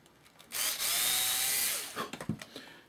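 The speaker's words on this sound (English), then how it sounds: "Drill a hole." A power drill drilling a hole in a wooden block spins up and runs for about a second and a half, close by, then winds down into a few light knocks and scrapes.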